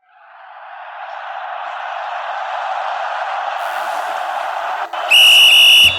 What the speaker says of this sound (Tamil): எதுக்குடா விசில் ஊதினா?